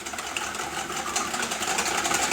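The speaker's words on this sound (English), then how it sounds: "crack my eggs into the bowl, and then take a whisk, grate the yolks, and just give them a quick little whisk up." Three eggs being whisked in a bowl for a mushroom omelette: a fast, continuous rattling scrape of the whisk against the bowl, close and steady, with no speech.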